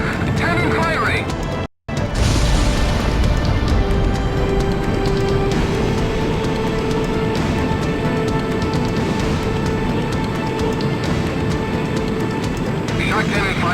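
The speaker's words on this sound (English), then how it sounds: "Cannon firing!" A huge enemy cannon firing in the Ace Combat X flight game mission, a loud rumbling blast and roar that fills the scene after a brief dropout, followed by sustained heavy jet and explosion noise.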